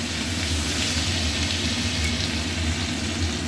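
Ginger garlic paste and green chillies hit hot oil in a wok, a loud, dense, continuous sizzle close up and unbroken.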